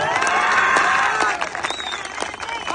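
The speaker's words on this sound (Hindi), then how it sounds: "जरा जोरदार तालियां इस बेटी के लिए भी।" A crowd at a political rally claps and cheers loudly, with whoops and shouts, then the applause thins out into scattered clapping.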